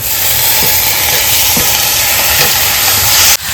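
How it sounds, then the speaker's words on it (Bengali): Meat drops into a fried spice paste seasoned with salt and Kashmiri chili, setting off a loud, steady, close sizzle that continues unbroken before cutting off sharply near the end. "মশলাটা কষানো হয়ে গেছে তার মাংসটা দিয়ে দেবো"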